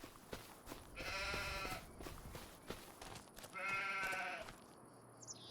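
Sheep in Farming Simulator 25, two drawn-out bleats a couple of seconds apart, fairly faint against quiet farm ambience.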